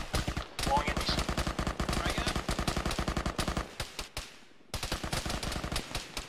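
Sustained automatic gunfire in the Arma military shooter, loud rapid bursts close by with brief pauses and faint voices mixed in during a firefight.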